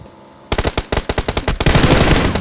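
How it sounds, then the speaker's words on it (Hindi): Automatic gunfire in PUBG Mobile starts suddenly after a short quiet moment: a rapid, loud burst of evenly spaced shots that turns into a denser, continuous volley toward the end. "यहाँ मैं इस बंदे पे फायरिंग करता हूँ"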